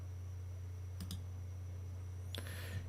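Computer mouse clicks while setting up a crypto app on a desktop, a quick pair of crisp clicks followed by another single click a moment later, close and faint over a steady low electrical hum.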